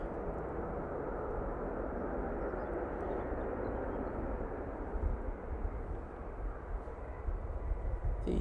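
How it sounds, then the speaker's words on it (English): A Ryanair airplane from Cologne at Manchester Airport makes a low, distant engine rumble, steady and faint, with slight swells toward the end. "And that's the Ryanair from Cologne."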